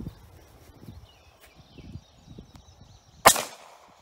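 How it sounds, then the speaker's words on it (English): One sharp, loud gunshot cracks from a Beretta 92 FS pistol firing a 124 grain full metal jacket 9x19 round outdoors, preceded by soft shuffling and rustling noises. "now we're going to shoot this with a 124 grain full metal jacket out of a Beretta 92 FS"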